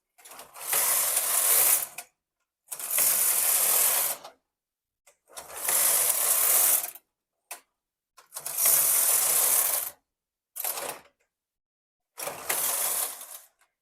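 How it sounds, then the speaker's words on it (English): Knitting machine carriage sliding across the needle bed in six separate passes, each a loud rattling, clattering mechanical run while the punch card selects needles for lace or tuck stitches, with short silent gaps between rows. "it automatically selects those needles, and each row will move the punch card and select the appropriate needles"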